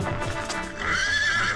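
A horse neighs in a loud, drawn-out whinny that rises and wavers, preceded by clip-clopping hooves and commotion, close and prominent over a busy background.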